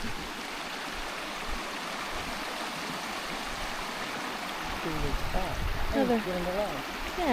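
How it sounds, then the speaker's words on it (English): A small waterfall at a campground splashes in a steady close rush, with a voice speaking over it toward the end. "Isn't this little waterfall cute?"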